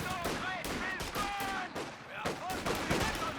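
Machine gun fire in the World War II strategy game Company of Heroes 2, loud, continuous bursts of rapid gunfire and explosions blending into a dense battle din, with a commentator talking over it.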